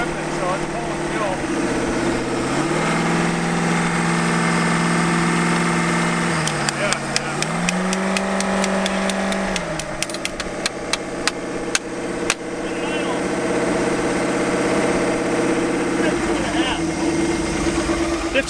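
An abandoned truck engine, sitting for 12 years and now running and dripping fuel, idles steadily with a low humming drone, joined partway through by a rapid ticking clatter, while people talk excitedly over it.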